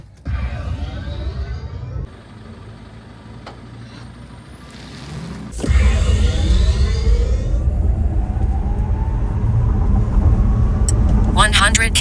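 A rear-wheel-drive Xiaomi SU7 electric car accelerates hard from 0 to 100 km/h in sport mode, a rising whine and road rumble swelling louder midway and building steadily to the end.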